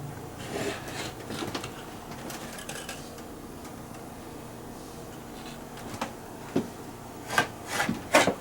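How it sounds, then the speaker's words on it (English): Hands rub along the top and bottom of a mini split cabinet surface to smooth it, producing soft, uneven scraping strokes that grow into a few sharper, louder swipes near the end. "and then you start rubbing along the top and the bottom"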